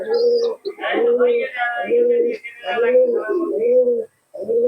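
Malbai and Madras pigeons at a bird seller's coo loudly and close by in repeated, rolling phrases that barely pause.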